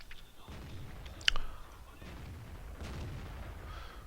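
A tank gun firing in the World of Tanks video game, one sharp, close boom followed by low rumbling game sound.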